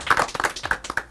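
Applause for an Indonesian band at their 25th-anniversary show, heard as a quick run of about eight sharp, separate hand claps close by, brisk and uneven, without speech.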